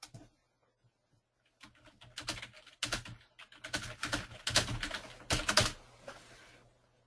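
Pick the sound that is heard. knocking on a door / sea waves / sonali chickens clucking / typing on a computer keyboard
typing on a computer keyboard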